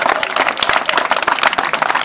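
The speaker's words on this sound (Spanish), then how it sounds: "Un aplauso." A crowd at a community event in Tamalín bursts into loud, dense clapping that continues throughout, close and without a break.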